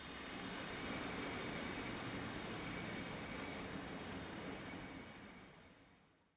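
A Cotton Belt L1 Northern steam locomotive, number 819, backs across the MacArthur Bridge over the Mississippi River in Train Simulator, making a steady broad rolling rumble that holds loud for several seconds and then fades at the end.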